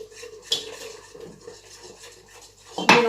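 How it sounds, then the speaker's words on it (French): Whisk stirring flour into liquid in a bowl for pizza dough, soft scraping and light clinks against the bowl, closing with a louder metallic knock. "Je mélange bien."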